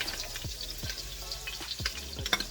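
Onions dropped into a hot pot with cream and fat for homemade chowder, giving a close, crackling sizzle with a few sharp clatters and thuds as they land, and no talking.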